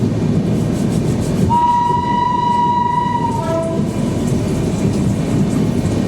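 A train at Bardhaman Junction railway station sounds one long, loud horn blast over steady rumbling and rolling rail noise, close by, with no talking.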